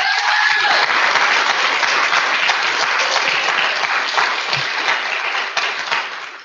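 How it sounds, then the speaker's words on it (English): A large audience at a data science summer program celebration breaks into loud, sustained applause that fills the whole stretch and tapers slightly near the end. "give yourselves another round of applause for your work"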